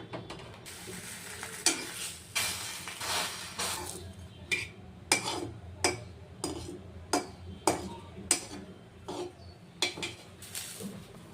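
Bread mushroom snacks frying in hot oil in a pan, with a constant sizzle under rhythmic metal scrapes and clinks of a spoon stirring and turning the pieces, close and alone without talking.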